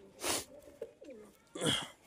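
A Desi Giribaj pigeon coos a few times, soft low rounded calls, with two brief breathy noise bursts at the start and end; fairly quiet and close.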